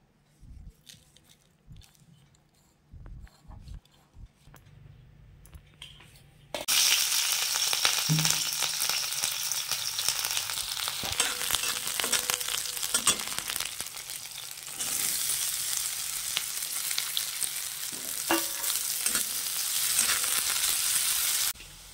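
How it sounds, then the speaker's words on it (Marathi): Chopped green chillies and potatoes frying in oil for a sabudana khichdi, quiet thuds at first, then a sudden loud, close sizzle that holds steady with occasional stirring, no speech. "ही बघा तेलात मिरच्या आणि बटाटो कसा भाजून घेतलाय चांगला"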